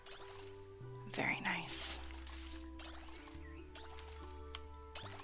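Plants are watered in the farming game No Place Like Home, soft dripping and pouring splashes over quiet tonal game music, with a brief spoken remark partway through.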